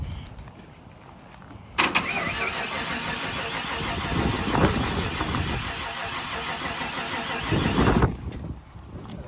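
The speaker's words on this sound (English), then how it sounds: "And trying to crank. Doesn't quite sound like it's getting any fuel." A 1993 Ford F-150 engine cranks steadily without catching at a police vehicle auction, a loud continuous whirring starter run of about six seconds that stops abruptly, with quieter outdoor ambience before and after.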